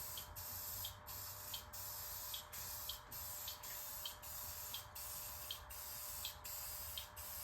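Black paint is misted onto the body of a 1987 Camaro from a spray can, a close series of short hissing bursts in a steady rhythm, each about half a second, with no talking.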